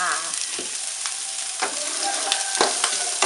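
Bacon and onion stir-fried in a pan for Korean black bean noodles, with a steady close sizzle broken by several scraping stir strokes of a utensil.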